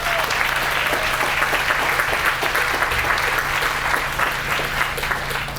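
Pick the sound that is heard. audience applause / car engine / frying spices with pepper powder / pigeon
audience applause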